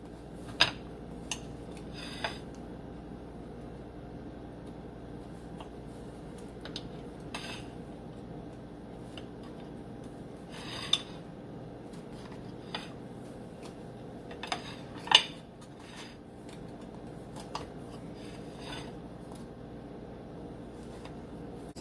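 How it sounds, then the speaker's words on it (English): Cutlery cutting into a freshly baked chocolate chip scone, heard as faint sparse clinks and taps of metal on a plate over a quiet background. "I'm going to cut into it."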